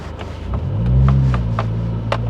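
A Dodge Neon SRT-4 exhaust rumbling low while driving on the road, a deep burble that swells slightly and settles, with a few light clicks and taps over it.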